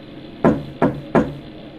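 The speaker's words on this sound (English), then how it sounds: "I woke up to hear knocking on glass." Three sharp knocks on glass, evenly spaced about a third of a second apart, loud and close with no other sounds, part of a scary animation.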